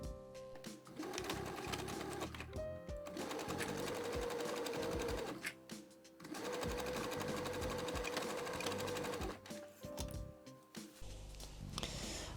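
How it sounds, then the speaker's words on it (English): A sewing machine runs a regular straight stitch along a fitted dress, a steady close mechanical whir in several long runs with brief pauses between them. "I will sew these with a regular straight stitch"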